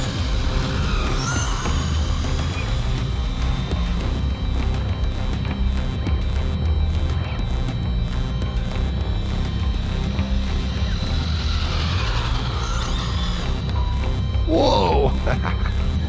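An RC10T radio-controlled car with a 26-tooth pinion runs and corners, its small electric motor whining continuously with brief pitch swoops as it turns, and a short clatter near the end.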